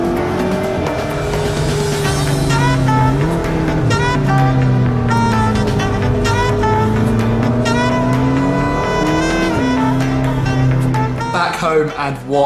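McLaren 650S Spider sports car cruising on the road, a steady loud engine drone with shifting pitch throughout, rising and falling with throttle, while a person talks over it intermittently.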